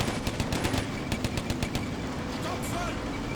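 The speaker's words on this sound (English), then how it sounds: "still the machine gun battle's happening" Rapid bursts of machine gun fire from the Combat Mission: Barbarossa to Berlin wargame crackle through a dense battle din, with a steady combat rumble continuing after the shots thin out.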